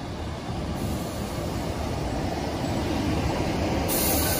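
Class 156 passenger train 156410 at a station, a loud, steady rumble of the diesel unit and rolling wheels close by, continuing throughout with a brief high squeal near the end.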